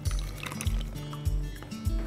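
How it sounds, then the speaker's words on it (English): Wet batter ingredients pour into a well in the dry mix for mini corn dog muffins, giving a soft, close liquid glug with repeated low splashy pulses and no talking. "You're gonna pour your wet ingredients right into that well."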